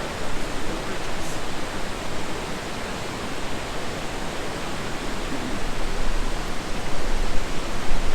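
A loud, constant roar of rushing water from a waterfall in Yosemite, a dense broadband wash with no voices.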